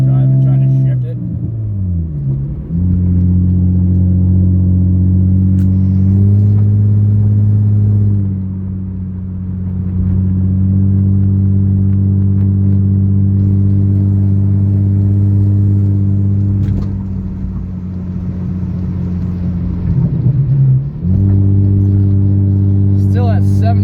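A Nissan 350Z is heard from inside the cabin as it drives through the gears. The engine drones steadily and loud, and its pitch drops and climbs again at each of several shifts, with a talking voice faint underneath.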